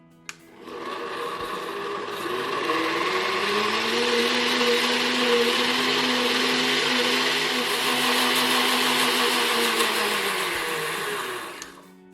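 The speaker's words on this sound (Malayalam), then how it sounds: "ഇനി ഇതെല്ലാം നന്നായിട്ടൊന്ന് മിക്സ് ആകുന്നത് വരെ ഒന്ന് ബ്ലെൻഡ് ചെയ്തെടുക്കുക" An electric kitchen mixer blends elanji batter for a Kerala egg crepe, a steady loud whirring hum running continuously for about eleven seconds before cutting off.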